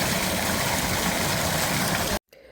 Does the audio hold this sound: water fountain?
yes